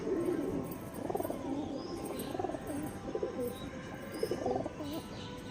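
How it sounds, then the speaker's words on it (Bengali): Soft, low pigeon coos repeat in uneven phrases against a steady background hum, with a few faint chirps higher up. "পায়রা সব ছাড়া আছে এখন, এই নিয়ে সব সামনে চলে আসছে পায়রাটা"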